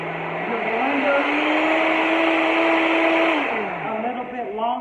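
A blender whirs loudly as it purées avocado and ice into a smoothie, its motor pitch rising, holding steady, then dropping and wavering near the end while a voice speaks over it.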